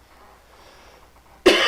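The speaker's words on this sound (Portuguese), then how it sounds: "Desculpe a tosse." A single abrupt, loud cough from a person bursts out near the end after quiet room tone.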